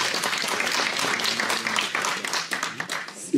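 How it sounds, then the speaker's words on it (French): Audience applause at a church service breaks out after a prayer testimony, a dense, steady wash of many hands clapping at moderate volume for a few seconds without talk. "On peut applaudir, c'est beau."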